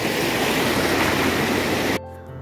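Sea waves roll in at high tide on Mandarmani beach, a loud, continuous rushing roar up close that cuts off abruptly near the end, leaving faint background hum.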